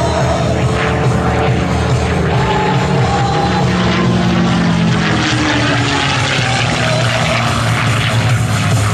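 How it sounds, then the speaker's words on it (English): A P-51 Mustang with a 1,650 cubic inch 12-cylinder inline Rolls-Royce Merlin engine flies aerobatics at an air show. Its loud propeller roar swells and shifts in pitch as it maneuvers overhead. "the engine that's in this P-51 is the famous Rolls-Royce Merlin engine"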